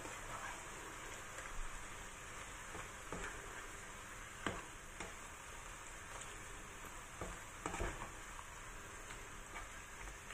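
King oyster mushrooms sizzle in a pan with oyster sauce and white pepper, a constant soft crackling hiss broken by occasional light clicks and scrapes of stirring.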